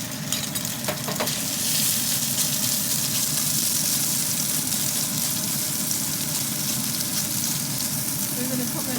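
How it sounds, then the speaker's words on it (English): Pork added to a pan of garlic and ginger frying for eggplant with sliced pork, a loud steady close sizzle with a few utensil clicks at the start. "Now I'm going to add in the pork."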